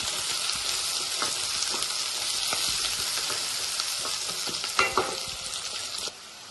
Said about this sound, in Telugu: ఇప్పుడు ఆయిల్ వేడెక్కిందండి. ఆనియన్ చేసుకుందాము. పచ్చిమిర్చి కలుపుకుందాం ఒకసారి.